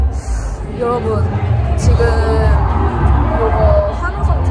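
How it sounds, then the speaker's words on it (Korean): Crowd cheering and shouting at a K-pop festival concert, the Cherry Blossom Festival 2021, a loud steady roar of many voices with whoops rising over the din throughout. "지금 이거 환호성 들리시나요?"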